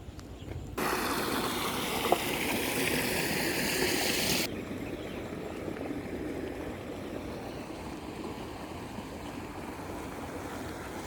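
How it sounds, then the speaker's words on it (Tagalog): Irrigation water runs in a rice field channel in Taiwan with a steady broadband rush. It is loudest for the first few seconds, then settles into a softer, continuous flow with some wind noise. "Yan yung patubig nila."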